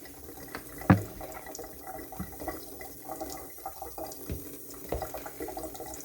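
Water runs steadily from a kitchen sink tap through a filter system with a soft hiss, broken by a few clinks and knocks nearby.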